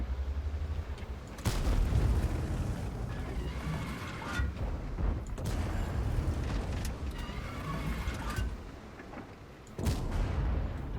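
The Obj. 752 tank's main gun fires in a tank battle game with deep, booming shots. Two or three heavy blasts sit over a constant rumble of engine and battle noise.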